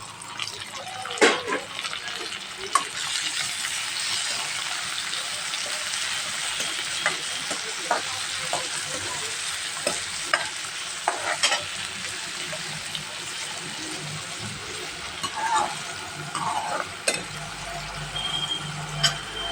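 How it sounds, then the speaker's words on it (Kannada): Onion and tomato sauté in a pan over a low flame: a steady close sizzle and crackle with scattered clicks and scrapes of stirring throughout. "ಸಣ್ಣ ಉರಿ ಮ್ಯಾಗಿದನ್ನ ಎಲ್ಲ ಬಾಡಿಸ್ಕೋಬೇಕು"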